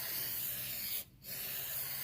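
A spray can hisses degreaser onto a wheel rim beside the rubber tire, a steady close spray that cuts out briefly for a split second and then resumes.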